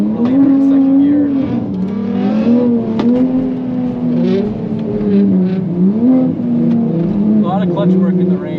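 Automatic Toyota A90 Supra drifting on a wet, slick track in the rain, its engine droning loudly and steadily throughout with rising and falling revs, while someone talks over it.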